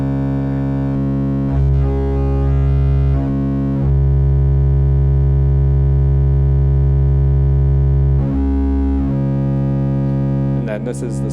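A modular synthesizer tone runs through a WMD Skorpion wavefolder in a workshop setting. A steady, harmonically rich drone shifts its timbre in abrupt steps, and a brief chirpy burst comes near the end, with no talking.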